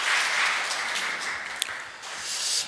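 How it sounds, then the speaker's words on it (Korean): A church congregation at a Sunday service applauds a women's mission choir after a special hymn, a soft, steady wash of clapping heard from a distance. "특별 찬양을 해주신 우리 에스더 여선교 회원들에게 다시 한번 격려의 박수 부탁드립니다."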